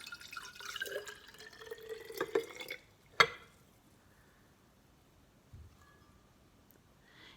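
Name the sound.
plain water poured into a glass jar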